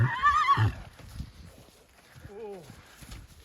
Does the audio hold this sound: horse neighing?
yes